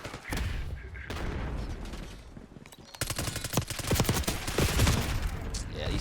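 Rapid automatic fire from a PP919 submachine gun in Black Ops 6, shot through a house during a hardpoint match, rattling in quick dense bursts that grow louder and denser toward the end, with game effects around them.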